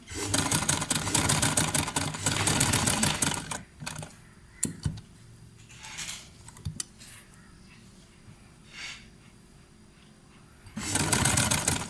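A sewing machine runs in bursts while stitching a fabric strip onto the back neckline of a kameez, with loud stretches at the start and end and quieter pauses of handling and small clicks between.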